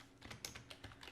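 A short run of soft computer keyboard typing, a handful of quick keystrokes close by and faint, with no talking.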